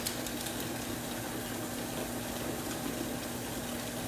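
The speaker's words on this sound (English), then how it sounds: "Gonna wash in between my fingers, rub my fingertips in my palms." Hands being scrubbed under a running kitchen tap, a steady soft rush of water with a faint hum, constant throughout and fairly quiet, no voices.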